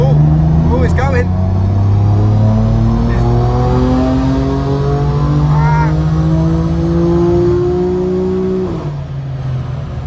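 BMW M4 Competition engine revving hard on a dyno and rising in pitch through the gears, loud and close, with a brief shout over it before it drops off.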